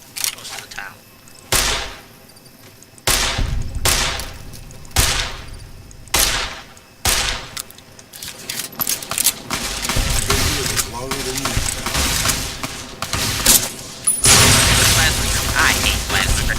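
Explosions from plasma grenades in the Fallout: New Vegas video game: a string of loud sudden booms and cracks, then a dense, continuous clatter of blasts and gunfire, with a voice talking over parts of it.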